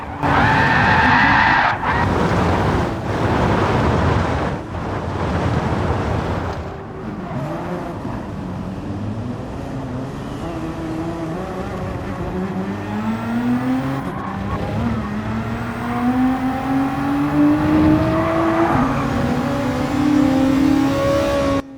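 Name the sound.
race car spinning off track in video game Gran Turismo 7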